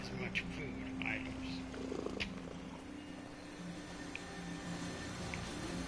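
A cat purrs in the Fallout 76 game on PlayStation 4, a soft low continuous rumble beneath a quiet game soundscape with a few faint clicks and tones.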